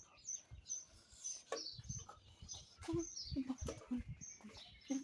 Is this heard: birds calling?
yes